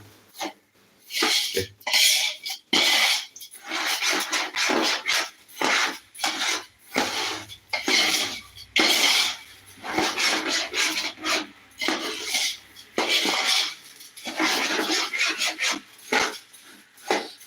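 Stirring a ghee and oil mixture in a pot for Malabar biryani, loud rhythmic scraping strokes repeating in bursts with short pauses, close up and without talk.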